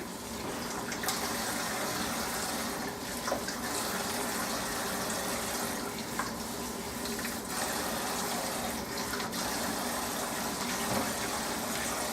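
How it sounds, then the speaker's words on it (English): Tap water gushes steadily into a big cooking pan for hibiscus tea, a continuous, fairly faint filling rush lasting about twelve seconds with no talking. "So I measure out 8 cups of water"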